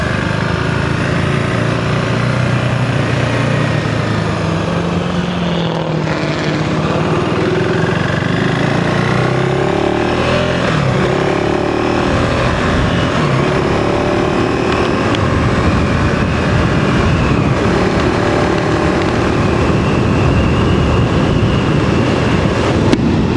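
A 2025 KTM 390 Enduro R single-cylinder motorcycle engine fitted with a Cooper ECU LM fuel controller runs loudly and continuously nearby, its throttle blips rising and falling in pitch over a dense, rough mechanical drone.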